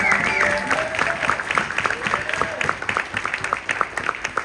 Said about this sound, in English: We can clap it up for Johannes and the solar team here